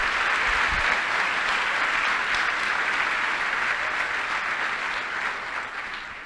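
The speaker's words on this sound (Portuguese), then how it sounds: "Aplauda ao Senhor por isso" A church congregation applauding, a dense, steady wave of clapping that fills the clip and fades slightly toward the end.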